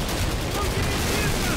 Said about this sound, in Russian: Мощь винтовки в автоматическом режиме